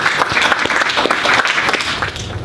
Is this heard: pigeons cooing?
no